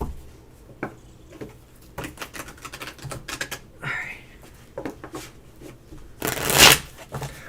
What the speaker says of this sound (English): I think I've shuffled them enough.